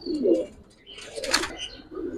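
Close, fairly loud low coos from Giribaz and coloured pigeons, one at the start and another toward the end, with a sharp chirp and some scuffling between.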